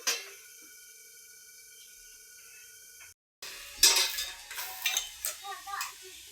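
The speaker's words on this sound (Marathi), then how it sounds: "लवकर मसाला भाजला जातो, कारण आपण कच्च घेतलंय ना." Raw masala roasting in a pan while a metal spoon stirs it, giving irregular scraping clinks and a faint sizzle, close and moderately loud after a quiet start.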